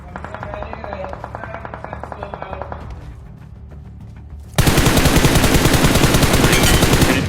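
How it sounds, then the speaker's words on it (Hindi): Bursts of rapid gunfire in the game BGMI, first a steady automatic rattle, then a brief lull, then a much louder, denser barrage of continuous shots. "और फिर इसके ऊपर गोली चलाई"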